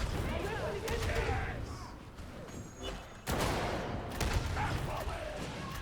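Ripper gun firing in a video game, bursts of rapid shots with a pause mid-way, fairly loud, with talk over it.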